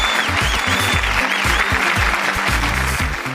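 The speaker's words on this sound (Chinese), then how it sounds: "让我们掌声欢迎他们！" A studio audience applauds to welcome guests onto a cooking talk show, with dense, continuous clapping at a steady level throughout.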